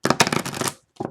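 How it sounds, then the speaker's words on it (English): Oracle cards are shuffled in a quick riffle, a dense papery flutter lasting most of a second, then a brief pause and a second short burst, close and alone. "I'm only going to shuffle the cards three times"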